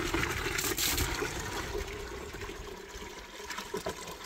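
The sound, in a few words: tap water flowing, stream changing thick and thin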